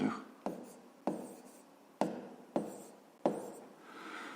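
A pen scratches out figures on paper while working a fifth-grade maths exercise, six short distinct strokes each starting sharply and trailing off, close and fairly quiet with no voices.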